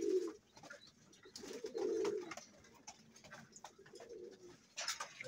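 Pigeons coo softly in their coop, low throaty calls repeated a few times at close range over faint rustling and scattered background noise.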